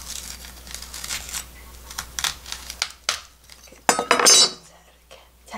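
A knife trims the root ends off onions for onion kimchi, producing a few close, crisp cutting and crunching sounds with scraping on a board, separated by quiet gaps.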